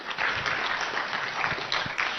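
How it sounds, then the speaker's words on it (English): A crowd at a party gathering claps, a dense burst of applause that holds fairly steady and close for a couple of seconds. "Clap for him."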